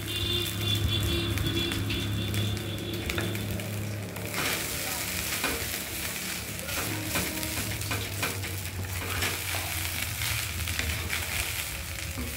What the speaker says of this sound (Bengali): মা ভাতটা ভালো করে ঘিয়ে নেড়ে নিয়েছে।